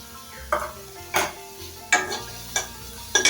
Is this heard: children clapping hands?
no